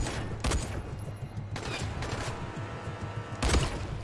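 Gunfire in the video game Dying Light comes as loud, punchy bursts of shots at irregular intervals, with a few sharp clusters standing out over a continuous game background.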